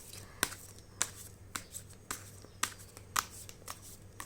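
Tarot cards being shuffled by hand, a series of crisp riffling snaps and flutters roughly every half second, close and fairly quiet over a low steady hum.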